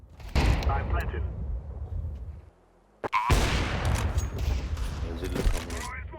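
Heavy gunfire bursts in a ranked online shooter match, loud dense volleys filling the first seconds, a brief lull, then another sustained barrage, with excited talk from the player over it.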